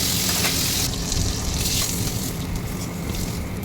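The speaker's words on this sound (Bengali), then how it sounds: "চিংড়ি মাছটা নুন হলুদ মাখিয়ে ভেজে নিচ্ছি" Prawns coated in salt and turmeric frying in hot oil in a home kitchen, a dense steady sizzle heard close and fairly loud throughout, with no speech.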